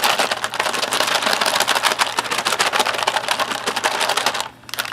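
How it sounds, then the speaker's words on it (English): Rapid rattling and sloshing from a shaken MRE drink pouch filled with water, loud and close, continuing steadily for several seconds before stopping briefly near the end. "Give it a little shake."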